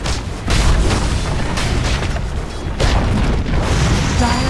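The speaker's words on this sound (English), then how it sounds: "Dire's middle tower has fallen." A Dota 2 tower collapsing lands as a deep, loud rumbling boom amid the match's dense noise, with repeated heavy low thuds rolling through the scene.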